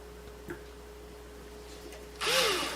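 A drill bores a strap button hole into an octave mandolin, starting as a brief, fairly loud whirring burst after a quiet stretch with a few small taps and handling noises.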